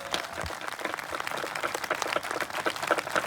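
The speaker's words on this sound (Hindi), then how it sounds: "अरे ठोको तालियां जबरदस्त तरीके से।" A church congregation claps steadily, a dense, lively round of applause from many hands that carries on throughout, fairly loud and close.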